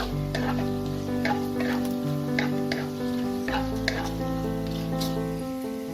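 Raisins frying over a low flame in a pan for a sweet vermicelli dessert, a steady close sizzle with soft clinks and scraping of a spoon recurring throughout under a faint hum.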